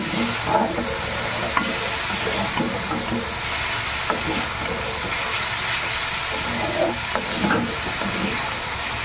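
Red amaranth greens fry in a pan with a continuous crackling sizzle and hiss, broken by occasional stirring scrapes close by.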